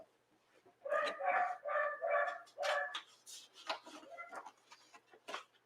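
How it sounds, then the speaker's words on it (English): A miniature dachshund barks indoors, a quick run of five loud, sharp barks followed by softer, scattered yaps. "for a little miniature dash hound, she sure has a big bark"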